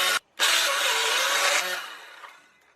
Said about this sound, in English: So what's wrong with your saw?